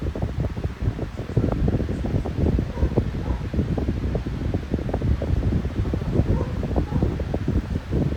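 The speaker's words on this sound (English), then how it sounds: "You can feel the fan moving" A 12-inch high velocity fan runs steadily nearby, a loud broadband whoosh of moving air with a fluttering, rustling texture that holds constant throughout.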